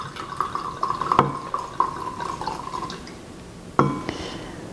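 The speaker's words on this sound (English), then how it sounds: "if you can pour like the same amount in both cups" Liquid poured into two glass cups, a steady thin trickle and splash with a couple of sharp clinks of glass, close and alone.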